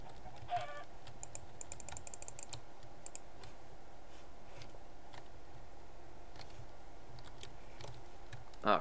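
A Minecraft chicken clucks in brief, faint bursts during survival gameplay, against quiet background game sounds and rapid soft keyboard typing throughout.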